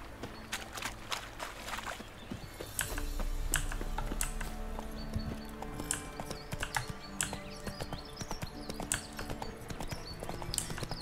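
Hooves of Roach, a horse in a video game, clip-clopping along at a steady trot: close, crisp hoof falls in an even rhythm that carries on throughout, with no talking over them.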